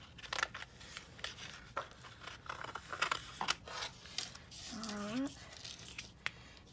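Scissors cutting paper for a folded greeting card, a series of quiet crisp snips and rustles up close, with a brief voice murmuring partway through.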